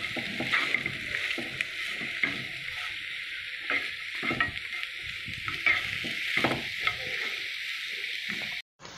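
Soya chunk xacuti masala, with garam masala added, fries in a pan, giving a soft continuous sizzle with repeated scraping and stirring strokes throughout, close and fairly quiet, with no voices.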